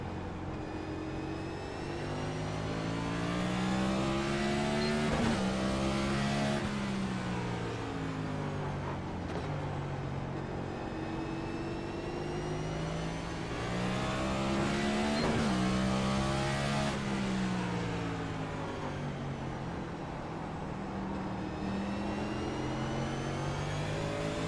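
A NASCAR Cup Series stock car engine at Martinsville roars steadily, its pitch repeatedly sweeping down and back up as it downshifts into the corners and accelerates out, heard continuously without talk.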